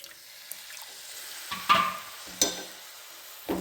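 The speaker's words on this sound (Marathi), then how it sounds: "आता थोडंसं पाणी ओतायचं." Water is poured into roasted gram flour with red chilli masala and salt in a hot pan, giving soft sizzling bursts and stirring scrapes over a faint background hiss.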